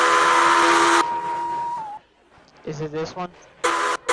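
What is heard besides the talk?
train whistle in a Roblox video game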